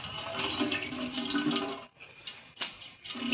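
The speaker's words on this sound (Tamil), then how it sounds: "இப்போ நெய் ஒரு 200 கிராம் ஊற்றிக்கலாம்." Ghee poured into hot oil in a pot for a large batch of Dindigul-style seeraga samba mutton biryani, giving a steady wet pouring and sizzling rush that breaks off and returns in short bursts.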